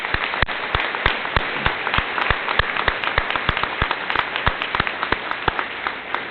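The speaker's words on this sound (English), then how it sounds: "I just want us to give a round of applause to all the faculty and staff that helped your students get here" A round of applause at a high school graduation ceremony, steady crowd clapping with distinct close individual claps cutting through the wash throughout.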